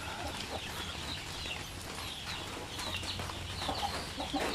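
Zamboanga and Basilan native chicks in a coop on a rainy day, a faint, continuous chorus of high peeping and soft clucks under a background hiss.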